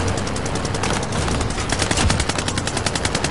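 Enemy gunfire in a video game: rapid, continuous automatic bursts that rattle loudly and steadily from start to finish, with no talk over them.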